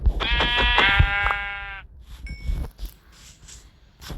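A single Minecraft sheep bleat rings out clearly in the game, a short harmonic cry followed by quieter game sounds with no talking.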